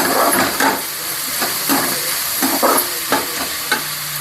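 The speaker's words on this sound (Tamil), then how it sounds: "வதங்கி வரட்டும் காய்கறியும்" Continuous sizzling of vegetables being sautéed in a pan for paneer noodles, punctuated by irregular scraping stirs, close and loud with no speech.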